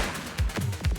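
Gunfire in the police video game The Precinct: three quick, punchy shots about a fifth of a second apart over a background hum, close and loud.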